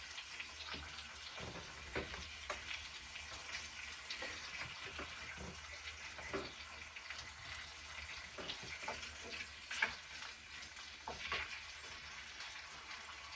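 Food fries on top of a stove aboard a narrowboat with a continuous soft, crackling sizzle. Faint pops and spits break through here and there, and no voices are heard.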